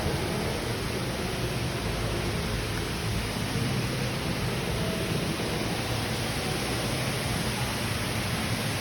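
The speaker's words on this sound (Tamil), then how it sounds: "மழை கொட்டுற மாதிரி இருக்குது." Broadband hiss resembling steady, pouring rain fills a mall during a show, loud and continuous throughout with no gaps and no voices.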